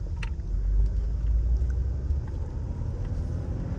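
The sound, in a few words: classic Mercedes convertible driving, shifting through gears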